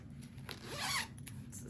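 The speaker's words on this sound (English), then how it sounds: "It's a zipper." A zipper on a fabric knitting project bag being pulled open in one smooth, close rasping zip lasting under a second, framed by a few light handling taps.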